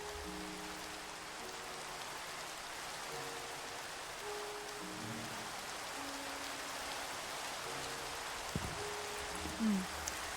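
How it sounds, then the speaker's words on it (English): Steady rain falling in the video game Minecraft, a soft continuous hiss of drops with faint low game tones underneath and a brief click near the end, fairly quiet throughout. "This rain is going on forever."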